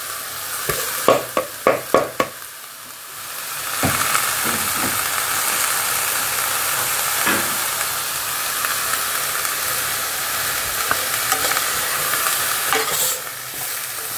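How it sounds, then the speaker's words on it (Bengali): Vegetables and coriander leaves sizzle in a hot pan as they are stirred, first with a few sharp clatters, then a loud, continuous frying hiss with occasional scrapes of the utensil. "এতে আমি এই সবজিগুলো দিয়ে দিচ্ছি, সব কিন্তু মানে একসঙ্গেই দিয়ে দিলাম"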